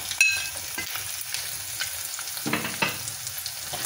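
Green chilies sizzle and crackle steadily in hot oil in a pan, with occasional stirring scrapes over the constant frying hiss.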